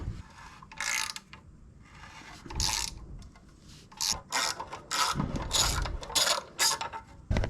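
Ratchet loosening rusty bolts on an RB25DET engine, with repeated bursts of rapid clicking strokes separated by short pauses, close and clear with no talking.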